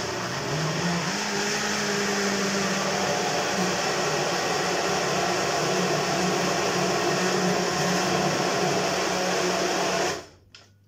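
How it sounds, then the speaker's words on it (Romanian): A blender whirs loudly and steadily for about ten seconds, blending a banana and frozen forest berry smoothie, then cuts off abruptly near the end. "voi introduce în blender"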